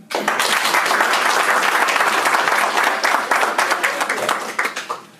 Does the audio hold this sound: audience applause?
yes